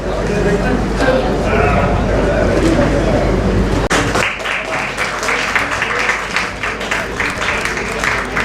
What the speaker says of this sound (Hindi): जोरदार तालीम सां मेरा फनकार असांजे सिंधियुनि में